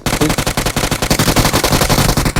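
Automatic gunfire in PUBG Mobile: a loud, rapid, evenly spaced burst of shots that runs without a break for the whole stretch, with no talking.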